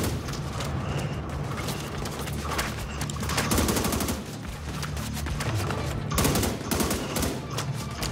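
Gunfire rattles throughout a session of the video game The Division 2, dense repeated bursts of shots sounding loud and continuous, with no clear talk.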